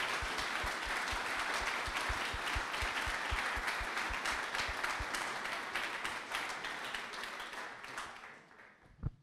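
An audience at a Startup Grind talk gives sustained applause after the speaker finishes, a dense, even clapping that gradually thins and fades, ending with a last isolated thump.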